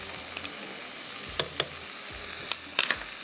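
Chicken cubes and garlic sizzle steadily in a pot of hot oil while occasional utensil scrapes and knocks from stirring cut through the frying.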